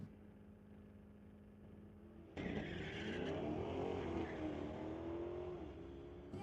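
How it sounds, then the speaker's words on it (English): A 2021 Chevy Camaro and a Mustang GT launch in a drag race at Mission Raceway Park, a steady idle that suddenly jumps to loud, rising engine roar with tire noise, then a slight easing as the cars pull away. "Jose Gonzalez brings up the 2021 Chevy Camaro once again, facing off against the Mustang GT"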